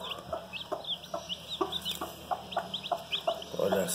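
Newly hatched chicks peep in rapid high chirps alongside clucking chickens, a busy close chorus with a steady background hum.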